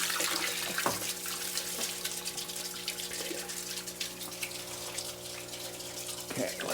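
Water runs steadily from a hose or tap while something is washed down, a continuous close hiss and splash with a few brief knocks and sloshes.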